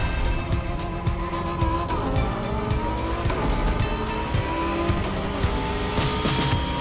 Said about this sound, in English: So you're driving a Lamborghini Huracan Performante with a special Liberty Walk performance flavor.